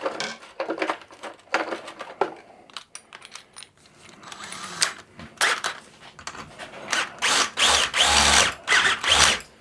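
A step drill bit bores into aluminium in several loud, grinding bursts separated by short pauses, the cuts growing more intense toward the end.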